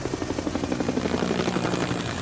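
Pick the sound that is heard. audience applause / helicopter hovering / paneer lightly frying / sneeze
helicopter hovering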